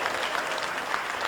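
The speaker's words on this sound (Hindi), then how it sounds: "एक बार जोरदार तालियां अपने लिए बजा लें" A crowd at a kavi sammelan poetry gathering bursts into dense, steady applause, a continuous wash of clapping filling the whole moment.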